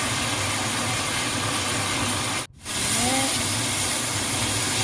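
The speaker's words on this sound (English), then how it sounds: "And you can add the lotus root. Stir fry for at least 1 minute. And add the vinegar." Lotus root stir-frying in a hot wok with vinegar added, a loud continuous sizzle and hiss up close, broken by one brief gap before the sizzling resumes.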